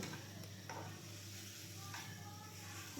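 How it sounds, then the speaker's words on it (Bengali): Amboli greens for a sour curry are stirred in a pan, soft scraping strokes over a low sizzle, faint and close, with a few light ticks of the utensil against the pan and no speech. "আমি এইভাবে নাড়িয়ে চাড়িয়ে নিচ্ছি"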